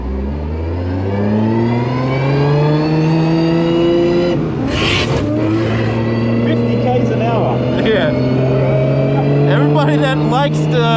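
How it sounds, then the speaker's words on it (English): A Nissan R32 GTR with straight cut gears cruising at a circuit produces a loud, rising mechanical whine layered over the engine drone, climbing steadily in pitch, with a voice talking over it. "Everybody that likes the straight cut gears, this will be a perfect example of how loud they are just cruising"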